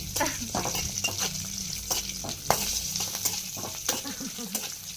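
Green chillies frying lightly in a pan, a steady close sizzle broken by repeated stirring scrapes and occasional clinks of the spatula against the metal.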